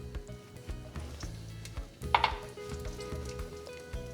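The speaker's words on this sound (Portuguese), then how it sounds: "No mesmo tacho, vou colocar o restante azeite." Olive oil heating in a cooking pot, a low crackling sizzle with a brief sharper burst of spitting midway, over a background of rhythmic low thumping.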